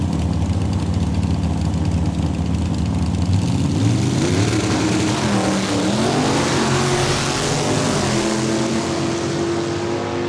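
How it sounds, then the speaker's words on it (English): A Chevrolet El Camino drag car launches at the line at Saskatchewan International Raceway, its loud engine note rising through clear revving sweeps over the steady rumble of other nearby race engines. "Kelly Morrison, ton of drag race SIR history with this El Camino"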